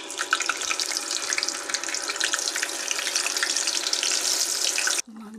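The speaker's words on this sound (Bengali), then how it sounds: "এই যে আলুগুলো ভাজবো।" Potatoes fry in a pan with a steady, dense crackling sizzle that holds for about five seconds, close and fairly loud, before cutting off abruptly into near quiet.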